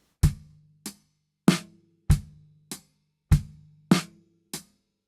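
A drum groove played on a kit, alternating deep bass drum thumps with sharper snare hits in a steady, spaced rhythm of eight clear strikes with short gaps between them, close and alone.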